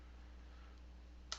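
A computer keyboard space bar is pressed once, giving a short, crisp click near the end after a quiet stretch of low hum.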